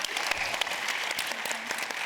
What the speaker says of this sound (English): So I want everybody to give him a quick round of applause.